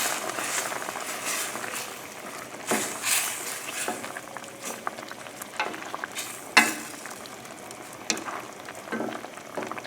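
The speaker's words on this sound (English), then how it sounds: "It's been boiling 5 minutes rapidly" Sauce with heavy cream bubbling and spitting steadily at a rapid boil in a pan, a dense crackling hiss with occasional louder pops, close by and without talk.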